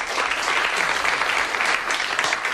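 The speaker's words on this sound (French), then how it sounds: "Je vous demanderai de l'applaudir." A French audience applauding a pianist about to accompany a singer, a short burst of close, dense clapping from many hands at a steady level.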